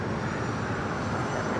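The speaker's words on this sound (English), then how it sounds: "Flight 18 Super, taking off to Seoul on the A380" An Airbus A380 airliner takes off at LAX, heard as a steady, broad engine roar that holds at an even level throughout the short stretch.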